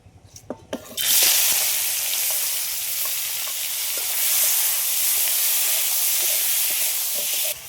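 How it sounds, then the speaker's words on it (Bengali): Prawns land in a hot pan after a few quick taps, bursting into a loud, sustained sizzle that hisses evenly for several seconds before cutting off. "এবার চিংড়ি মাছগুলো ভেজে নেব"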